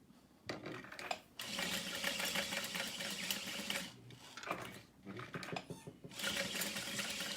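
A sewing machine stitches a Kalani backpack in sustained close runs of rapid mechanical whirring, broken by brief pauses, while a voice talks over parts of it.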